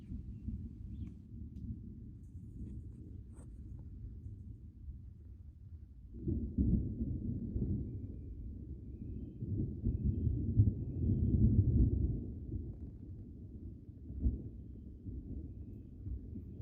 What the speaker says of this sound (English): as this storm is approaching